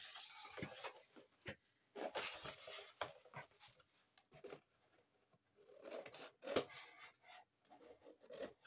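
Paper being cut by hand for a gnome-themed scrapbooking album structure, close soft rasping snips and rubbing strokes in irregular bursts with brief quiet gaps.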